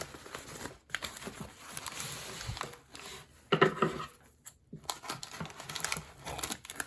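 Wax paper wrapping on a 3,000 psi Air Force servo actuator crinkles and tears in bursts of dry rustling, close and fairly quiet, with a louder crackle midway and brief pauses between handlings.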